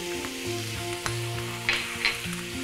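Garlic, ginger and spices fry in a hot pan for a lamb, potato and spinach curry, giving a steady close sizzle with a few sharper crackles and stirring taps.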